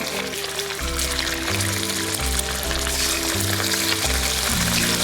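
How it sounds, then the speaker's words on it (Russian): Duck breast sizzling in hot oil in a heated wok, a dense, steady frying hiss running throughout, loud and close. "у нас вок нагрелся, масло уже начинает шипеть, и мы добавляем туда утиную грудку"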